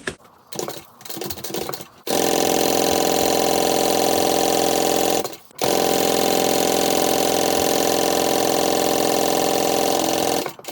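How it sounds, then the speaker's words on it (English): A sewing machine runs fast and steady while stitching the top and bottom edges of handbag pocket panels at a quarter-inch seam. Two long loud whirring runs are split by a short pause, with a few quieter start-up bursts before them. "We're going to sew along the top and the bottom using a 1/4 inch seam allowance."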